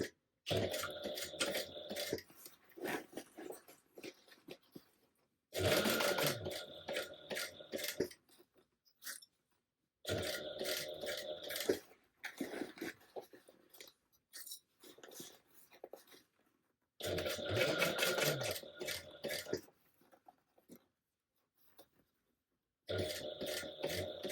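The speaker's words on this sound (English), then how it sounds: "I am just sewing the corners closed at 3/8 inch." A sewing machine stitches the corners of a tote bag closed in short bursts of rapid, close mechanical chatter, separated by pauses of near silence.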